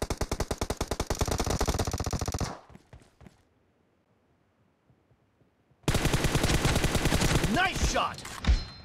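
Rapid automatic gunfire from a team deathmatch video game, a dense burst that cuts to near silence, then a second loud sustained volley with a louder blast near the end.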